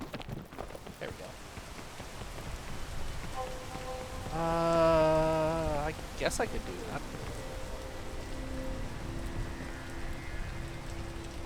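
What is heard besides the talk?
rain in a video game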